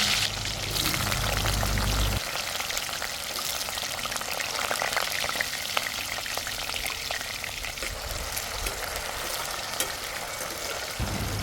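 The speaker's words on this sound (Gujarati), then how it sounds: "હવે એ જ રીતે આપણે બટેકા પણ તળી લઈશું" Potatoes fry in hot oil for a Kathiyawadi cluster-bean and potato curry, giving a steady close sizzle and crackle that runs throughout, with a brief low rumble at the start.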